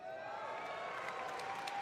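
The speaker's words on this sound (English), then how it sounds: "people are just sitting there clapping and cheering out of pity" Audience applause and cheering at BlizzCon, a steady wash of clapping from a large crowd that holds evenly for the whole stretch at moderate distance, without a break.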